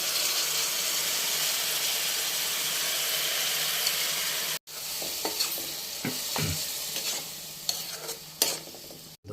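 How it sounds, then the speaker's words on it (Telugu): Egg curry with tamarind in oil sizzles steadily in a pan, with a short break before clattering stirring and occasional sharp scrapes of a utensil over continuous bubbling frying. "చింతపండు వేసిన కాబట్టి ఒక 5 నిమిషాలు మంచి స్లిమ్లో పెట్టి ఉడికిద్దాం కొద్దిసేపు"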